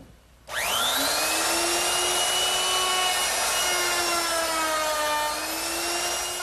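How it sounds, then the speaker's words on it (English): A router fitted with a 1/2-inch round-over bit for rounding the edges of a dining table top spins up sharply, then holds a loud, steady high-pitched whine with a slight pitch wobble. "now I'm ready to round over the edges on my top. And for that, I'm going to use a 1/2 inch rounding over bit"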